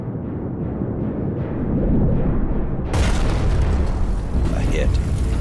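A torpedo strikes its target in New York Harbor and explodes: a sudden broadband blast erupts midway and rumbles on loudly, following a steadier low roar.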